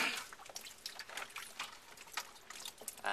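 Water trickles and drips from a PEX plumbing fitting on a washing machine supply line, a faint, irregular patter of small splashes close by.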